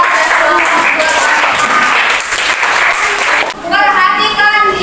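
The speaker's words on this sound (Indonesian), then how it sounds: "Oke, tepuk tangan untuk kelompok kedua dan kelompok kedua." A classroom of students applauds a student group in a continuous burst of clapping, loud and close, briefly dipping before picking up again with children's voices mixed in.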